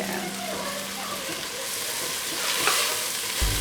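Garlic fries in a pot for vegan chili, a steady broadband sizzle that swells louder toward the end, with faint stirring clatter and a brief bump at the close.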